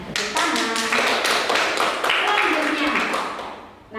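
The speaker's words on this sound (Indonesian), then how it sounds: "Tepuk tangan." An audience of teachers claps their hands together in a close, loud burst of sharp taps that thins out and fades toward the end, with voices mixed in.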